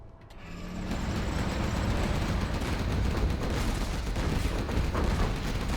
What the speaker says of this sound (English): Artillery coming from POPO across the map.